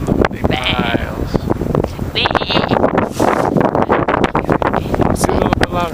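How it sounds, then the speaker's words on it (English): Sheep bleating in open countryside in Ireland, heard against heavy wind buffeting the microphone. Several wavering bleats come close together, with people talking over them. "Stopped up to say hi to some sheep."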